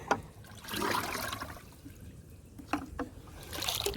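Water trickles and splashes from a hose or can onto a garden in Florida, a soft uneven dribble with brief louder bursts of flow, close by and without voices.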